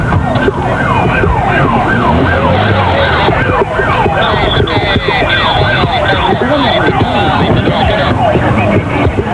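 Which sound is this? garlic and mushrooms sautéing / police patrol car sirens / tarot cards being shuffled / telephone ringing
police patrol car sirens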